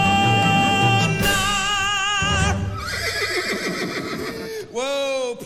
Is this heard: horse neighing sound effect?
yes